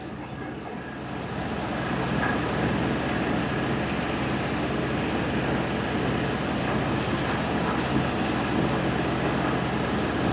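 A 2013 Ram 1500 4x4 pickup with a 3.6 engine idles in drive close by, a steady low rumble with a constant mechanical drone and no talking.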